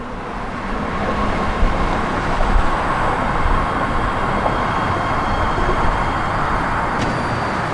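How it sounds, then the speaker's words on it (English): A new BART train pulls into a San Francisco station with a loud, steady roar of wheels and rail noise that lasts throughout. A faint high whine comes through near the end. "And here it comes, dazzling headlights on these new BART trains, and it pulls up to the station."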